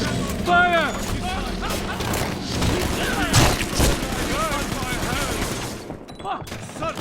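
A loud, dense volley of gunfire erupts in BioShock 2 Remastered, crackling shots and mechanical clatter mixed with shouting voices throughout.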